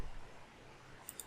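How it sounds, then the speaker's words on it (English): A computer mouse clicks twice in quick succession near the end, faint and close, against a quiet room hiss while building a PowerPoint slide. "click this one and also click this one"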